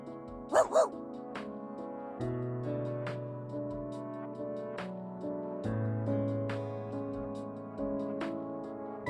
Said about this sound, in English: Stop barking! Let's not get the others' attention.